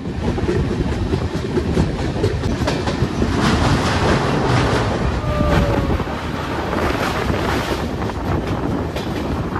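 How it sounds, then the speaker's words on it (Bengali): The Vistadome tourist special train runs from NJP to Alipurduar through forest and hills, a loud continuous rumble with rhythmic clickety-clack of the wheels and heavy wind buffeting close to the microphone, with no talking. "জঙ্গলের বুক চিরে চলছে আমাদের ট্রেন, দারুণ দারুণ।"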